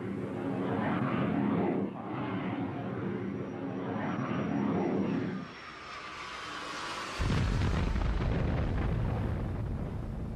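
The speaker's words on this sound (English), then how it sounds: "Israeli planes mounted an attack" Israeli warplanes attack the ship Liberty: a loud, sustained roar of aircraft mixed with rumbling blasts, swelling again after a brief dip.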